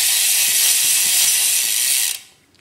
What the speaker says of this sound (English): this is what the hub sounds like